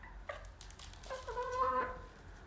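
Chickens clucking softly on an evening outing, a few quiet, close clucks and murmuring calls in a calm setting with no talk.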